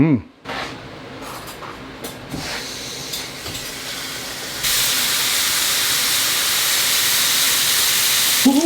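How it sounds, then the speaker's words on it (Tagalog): A thick rib eye steak sears in a pan with butter, bursting into a loud, steady hissing sizzle midway after quieter clatter and handling sounds, with a voice briefly audible. "lulutuin na natin yung steak na nakuha natin from Bistec Premium Cold Cuts"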